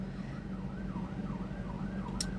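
Sirens wailing outside, a faint rising-and-falling tone repeating about every half second, distant under a low background rumble, with a brief sharp noise near the end.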